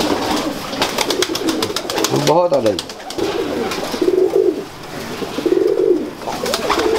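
Old Kalsire pigeons coo close by in a steady repeated series, with a brief flutter partway through and someone speaking over them.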